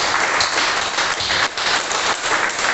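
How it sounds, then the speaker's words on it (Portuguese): Church congregation clapping during worship, a dense continuous wash of applause that stays loud and even throughout, with no clear voices. "Vamos aplaudir Jesus."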